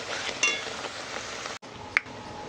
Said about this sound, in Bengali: এই যে এখানে আমাদের শাক ভাজা হচ্ছে